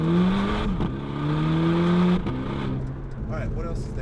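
Volkswagen GTI fitted with a Borla S-Type exhaust pulls hard in first gear under a small overpass, a loud rising engine note climbing steadily for two seconds before dropping off as it shifts and fades.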